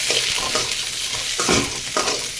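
Onions for an okra do pyaza fry in a pan, a dense, loud crackling sizzle with a few scrapes of a stirring spoon, close up and short, with no voices.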